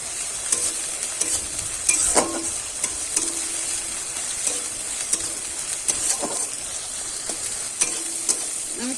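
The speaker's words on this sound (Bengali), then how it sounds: "এবারে দিয়ে দেবো আদা আর রসুন বাটাটা, দিয়ে ভালো করে কিন্তু আবারও আমি একটু কষে নেব" Ginger and garlic paste stir-fries in a hot pan, a steady close sizzle broken by scraping spatula strokes against the metal every second or so, with no voices.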